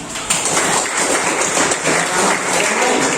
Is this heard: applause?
yes